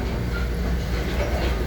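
Steady low rumble and rhythmic rolling of a steam-hauled heritage commuter train from the New York Susquehanna and Western society, heard from inside the car, continuous and fairly loud with no talking.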